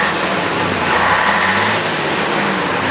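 A Fiat 691 truck converted into a working machine runs with its engine held at a steady, loud, rumbling rev, close by and unbroken for the few seconds.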